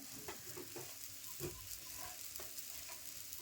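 Ragi flour roasts in a pan for ladoo while being stirred, a soft continuous dry hiss with faint scraping strokes of the spoon at an uneven rhythm, close but quiet; no voices.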